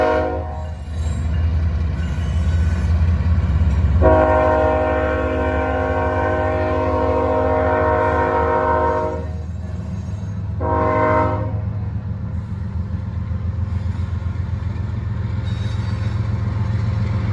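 A CSX freight train rolls through a small town, its horn blasting in long sustained blasts over a steady low rumble of the passing cars.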